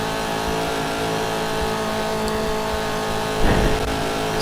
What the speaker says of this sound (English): so that's why we're driving a Chevy